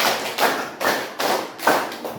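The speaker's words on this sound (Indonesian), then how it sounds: "Tepuk 1, tepuk 2, tepuk 3, tepuk 4, tepuk 5" A classroom of students claps in a counted pattern, four separate loud bursts of many hands striking together at an even pace, each burst a short rattle of overlapping claps.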